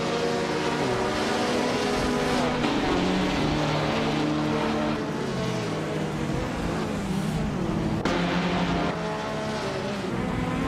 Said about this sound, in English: Jeremitsirosis is racing a Ferrari 250 Testarossa from 1957